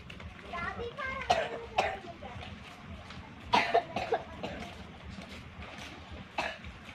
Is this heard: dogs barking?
no